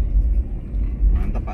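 A 1962 Chevrolet Impala engine idles along at low RPM in second gear, giving a steady, deep rumble from inside the car with no sharp changes.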